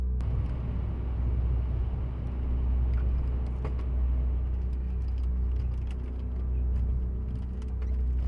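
A car approaches a roundabout, recorded from inside as a steady low engine and road rumble with faint tire noise and occasional small rattles. The level stays even and close throughout, with no voices.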